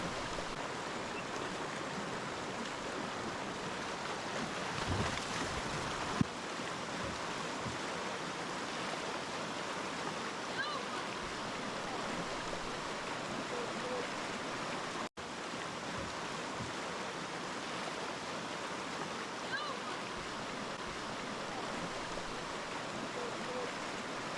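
The shallow Verde River in Arizona flows around a raft, a steady, moderate burble and wash of moving water that runs evenly for the whole stretch, with a couple of faint knocks.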